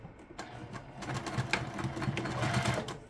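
Home sewing machine stitching a seam, a close, busy mechanical rattle of rapid needle strokes that starts up and runs continuously, with faint clicks at the start.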